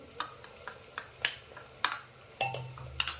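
Coconut, garlic, ginger and coriander paste being stirred in oil over medium heat for Khandeshi masala khichdi, heard as a series of sharp spoon-against-pan clinks and scrapes at an uneven rhythm, close and fairly quiet, with a soft sizzle underneath.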